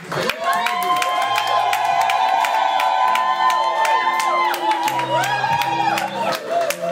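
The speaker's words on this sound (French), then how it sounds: "Donc on peut encore applaudir pour le frère Alphonse." Wedding guests cheer and clap for brother Alphonse at a nuptial blessing, a loud, steady crowd din with sustained tones and voices throughout.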